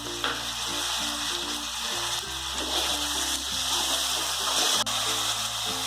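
Tomatoes frying with onion and ginger-garlic paste for restaurant-style bhindi do pyaza, a steady close sizzle with a low tonal hum underneath and occasional stirring scrapes.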